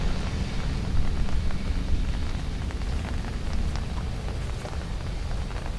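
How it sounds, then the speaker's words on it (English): Steady rain falls during a wet day at Dublin Airport, a dense, continuous hiss that stays loud and even throughout, with no talking over it. "the rain noise is really helping."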